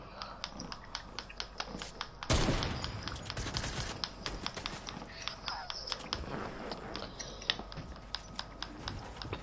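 Shots in a PS4 video game, a loud blast followed by scattered sharp reports and clicky taps, fairly close, irregular and sparse, no voices.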